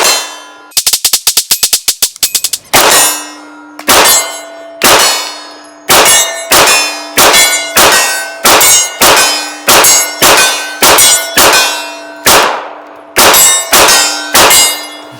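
Steel targets ring under 9mm fire from a Bear Creek Arsenal Grizzly pistol: a fast burst of about ten loud clanging hits, then a steady string of single shots, each a sharp strike followed by a sustained metallic ring.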